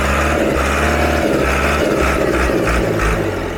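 An old Ford 6610 tractor with a Carraro front axle runs at raised revs, its loud engine rumble and clatter continuous and close throughout.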